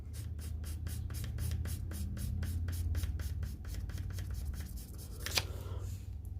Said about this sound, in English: I know you can hear my pencil hitting the table.